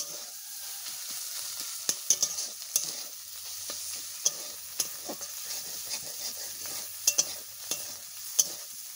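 Chow mein fries in a pan with biryani masala and chili powder, sizzling softly and steadily. A utensil scrapes and taps now and then with sharp clicks, and no one speaks.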